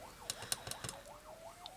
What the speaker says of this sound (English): now we've got sirens going